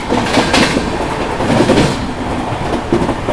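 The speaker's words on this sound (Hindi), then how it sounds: "सामने से एंटर कर रही है भारत देश की पहली राजधानी एक्सप्रेस" Howrah Rajdhani Express passenger train running past on Indian railway track, a loud, steady rumble of wagons with rhythmic clickety-clack of wheels over rail joints, close by and without pause.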